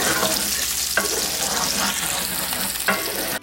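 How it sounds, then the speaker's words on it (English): Meat frying in a hot skillet, a steady close sizzle with occasional sharper crackles and brief stirring scrapes, loud and continuous throughout with no talking. "Skillet is hot, so I'm going to put my meat into the skillet."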